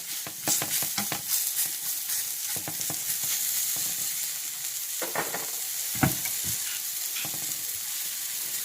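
Sausage fries in olive oil in a pan, a continuous crackling sizzle broken by clusters of sharp spatters and utensil scrapes, close and moderately loud, with no talk.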